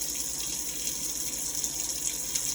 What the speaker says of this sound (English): And then I'm going to add the warm water.